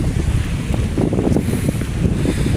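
Strong, steady northeast monsoon wind buffeting the microphone outdoors near the sea, with a constant low roar and gusty rumble throughout.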